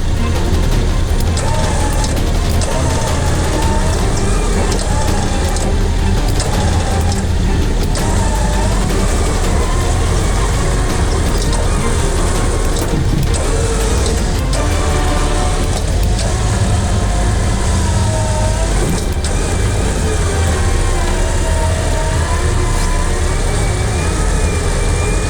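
A Toyota Bundera 4x4 engine running steadily during a winch recovery, a loud continuous low rumble with shifting tonal whine and occasional clanks, close by.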